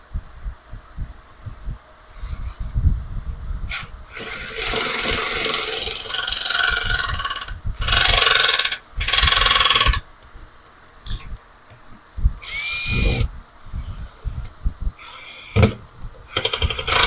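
A variable-torque power driver drives screws during a bathroom cabinet build, heard as several loud, close whirring bursts of a second or two that stop abruptly, with quieter handling noise in between.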